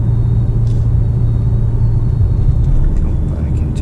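Mercedes-Benz GLB driving over a bridge at night, a heavy steady low road rumble and tyre roar heard from inside the cabin, loud and continuous, with someone talking over it.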